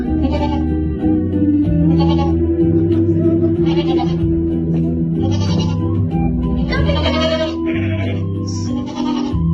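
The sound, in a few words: goat bleating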